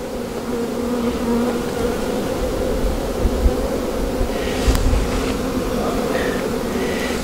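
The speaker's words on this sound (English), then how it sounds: "It's hard when there's so many bees around." A close, dense drone of many bees buzzing continuously around a hive, with occasional sharper knocks and rustles.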